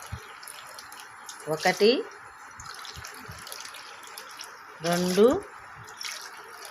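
Measured water poured into a vessel to make sorghum porridge, two short splashing pours a few seconds apart, close by, while a person counts aloud in between.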